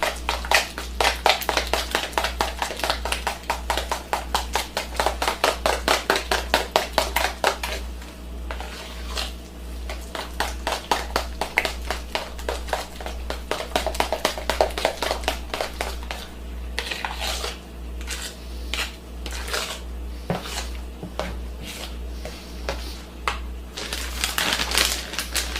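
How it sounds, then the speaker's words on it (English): Lasagna filling with cayenne and other ingredients is mixed thoroughly in a bowl, a rapid run of close, loud, wet slapping and squelching strokes that keeps up throughout, with a steady low hum underneath. "Thoroughly mix this up."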